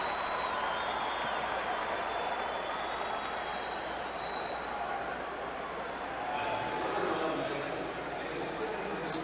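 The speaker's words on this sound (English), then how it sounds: "crowd into it now." Baseball stadium crowd at a Florida at Milwaukee game in the fifth inning, a broad steady roar of cheering and applause that swells slightly mid-way and stays dense throughout with no clear talk.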